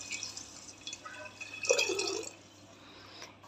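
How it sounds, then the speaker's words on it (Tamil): Thin coconut milk pours into a pot of rice for garlic rice porridge, a short liquid splash and dribble that swells briefly and then fades into quiet background. "இப்போ எடுத்து வச்சுருக்க தண்ணி பாலை சேர்த்துக்குவோம்"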